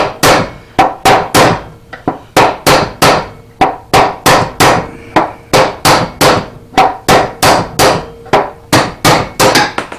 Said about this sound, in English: hit that with a hammer, go back and forth each side